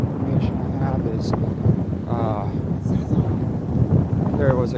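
Gusty wind outdoors outside a Plymouth middle school rumbles and roars steadily against the microphone, loud and unbroken, with a voice speaking through the buffeting.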